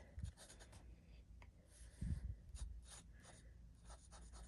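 A fountain pen with a fine nib scratches across a paper document as a name is written in dark blue ink: short, close strokes with small pauses, quiet and near.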